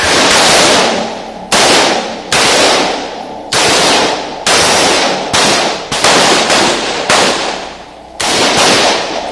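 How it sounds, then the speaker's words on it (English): Rifles fire in semi-automatic mode on a qualification range, producing loud, sharp overlapping shots with echoing tails at an irregular pace. "Move your selector lever from safe to semi-automatic. Commence firing."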